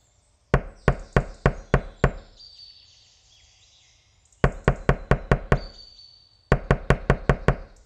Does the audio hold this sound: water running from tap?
no